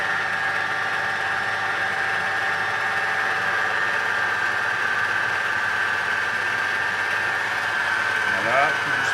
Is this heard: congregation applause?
no